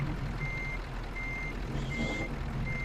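A truck reverses in Euro Truck Simulator 2, its backup alarm beeping at a steady, evenly spaced rhythm over a low, constant engine rumble, with no talking.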